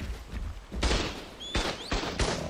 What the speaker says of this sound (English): Turrets are shooting.